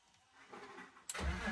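A BMW E46 drift car being lightened cranks and fires after about a second of low rumble, then settles into a loud, close, steady engine roar.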